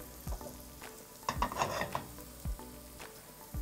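Fresh mushrooms sizzle in a hot frying pan, a quiet steady frying hiss with sporadic pops and soft thuds of stirring, fairly close and without talk.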